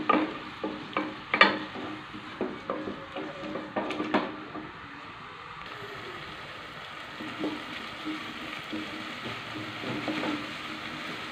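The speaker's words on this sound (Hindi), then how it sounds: "प्याज जो हैं हमारे हल्के हल्के ब्राउन होना शुरू हो गए हैं" Two medium onions fry in a pan until browning, with a soft steady sizzle and a series of clattering stirs at the start. The stirring thins out later while the frying continues underneath.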